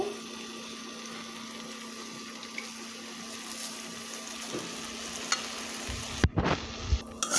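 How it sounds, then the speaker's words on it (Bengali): Tomato, potato and green chilies cook down in a spice mixture in a pan, giving a steady low sizzle with stirring scrapes and clatter toward the end. No one speaks. "মশলার ভিতরে টমেটো আলু কাঁচামরিচ দিয়ে কষিয়ে নেব"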